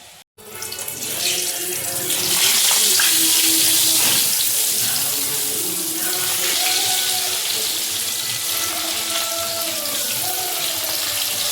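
Tap water runs over a pumpkin being washed in a kitchen sink, making a loud, continuous close gush and splatter after a brief silence at the start.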